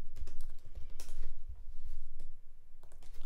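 Close, quick typing on a computer keyboard, a dense run of clicking keystrokes with a brief pause before the tapping resumes, heard alone.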